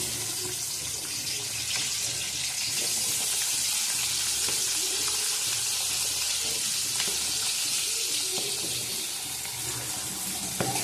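Cut potatoes and cabbage frying in a pan, a steady close hissing sizzle that holds unbroken throughout, with faint scraping underneath and no talking.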